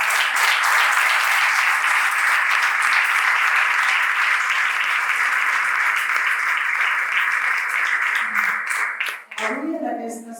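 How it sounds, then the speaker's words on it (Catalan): Audience applause at a professional conference on abortion, a dense, loud sustained round of clapping that holds steady before tapering off, with a voice resuming at the end. "Jo demanaria un aplaudiment"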